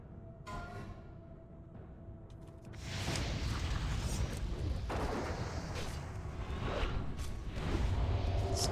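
A Living Bomb spell explodes during a World of Warcraft Molten Core raid fight, a loud burst that swells into a sustained roar of blasts and combat noise.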